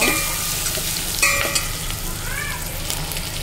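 Onions, curry leaves and salt fry in a pan for chicken curry, a steady close sizzle broken by a few clinking stirs of a spoon against the pan, with no one talking.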